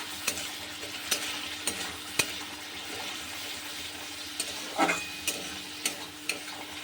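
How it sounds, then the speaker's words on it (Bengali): Hilsa fish oil sizzles softly in a pan while a spoon stirs it, giving a steady close frying hiss broken by sharp clinks and scrapes. "এবার এটাকে আমি খুব ভালো করে কষাবো।"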